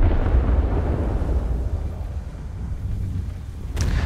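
Naval guns firing shells in a warship video game, a sustained deep rumbling roar like distant thunder that swells and fades over a few seconds, followed by a brief sharper crack near the end.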